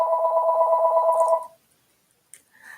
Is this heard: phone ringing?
yes